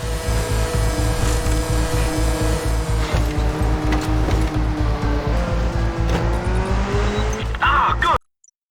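A car in the video game Just Cause 2 drives on with a loud, steady engine drone throbbing in quick rhythmic pulses, then cuts off abruptly.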